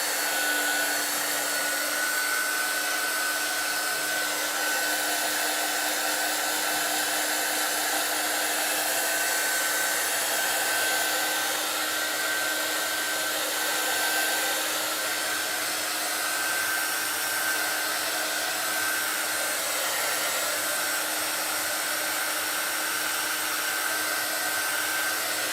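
A hair dryer blows steadily to dry a fresh coat of chalk paint, a continuous close, loud whirring hiss with a fixed motor whine that holds unchanged for the whole stretch with no talking.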